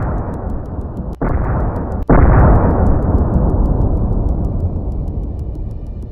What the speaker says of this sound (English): a HIMARS precision strike destroyed it.